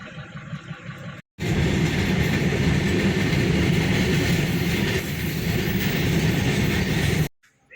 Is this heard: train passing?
yes